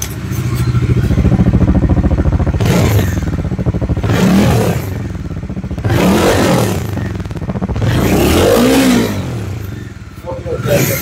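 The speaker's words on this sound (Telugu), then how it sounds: "Exhaust sound." A modified Bajaj Dominar 400 motorcycle with a dual-barrel exhaust idles loud and close, a deep throbbing burble that swells in a few surges as the throttle is blipped. Someone talks over it.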